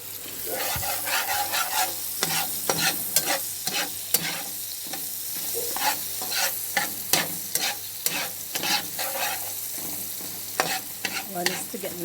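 Onions and black pepper frying in a pan for ackee and saltfish, a dense, continuous close sizzle and crackle with frequent spoon scrapes and taps throughout.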